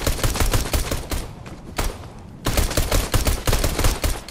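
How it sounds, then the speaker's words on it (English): Rapid bursts of gunfire from a Fortnite match, dense and loud with overlapping shots, briefly easing mid-clip before resuming at full intensity. "somebody's shooting at me."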